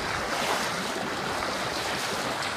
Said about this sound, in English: you can see the water there breaking on the rocks over there.